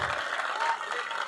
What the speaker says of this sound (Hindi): तालियों में कमी नहीं आनी चाहिए अपने नेता के लिए।